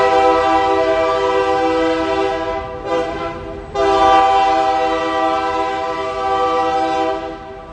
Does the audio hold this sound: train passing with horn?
yes